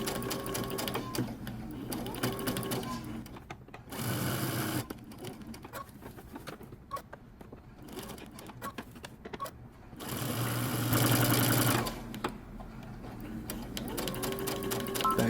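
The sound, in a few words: sewing machine back stitching a men's button-up shirt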